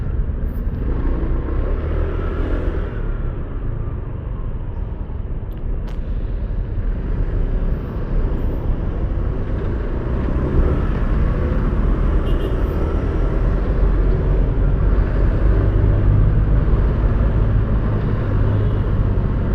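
Steady road traffic rumbling near the new U-turn slot in front of SM Sucat, a continuous low drone of cars and motorcycles that swells slightly toward the end, with no talking.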